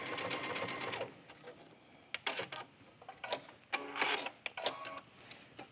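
A sewing machine stitches a neckline in short bursts, a rapid close mechanical chatter running for about a second, then several brief start-and-stop runs separated by quiet pauses.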